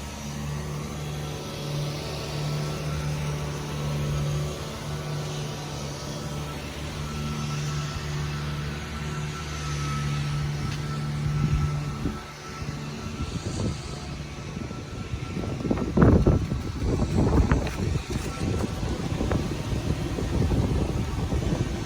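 Cold-started 2004 Toyota Sienna LE with the 3MZ V6 at about 232,900 miles idling steadily with a low hum and whine, joined later by louder shuffling and handling noises nearby.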